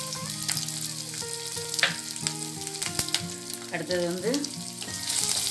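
Ginger, fennel seeds and garlic sizzle steadily in hot oil for tomato curry, with occasional stirring clicks against the pan, while someone speaks briefly over the frying.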